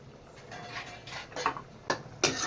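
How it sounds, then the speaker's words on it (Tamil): Buttermilk for mor kuzhambu being whisked in a vessel gives faint, quiet clinks and scraping taps that grow into a few sharper knocks toward the end, with no talking. "மோரையும் ஒரு அடி அடிச்சுக்கணும்."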